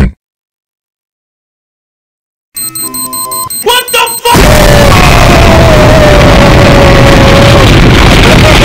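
A loud boom explosion sound effect in a Baldi OS computer parody hits suddenly after a stretch of silence and a few short electronic tones, then roars as sustained broadband noise to the end.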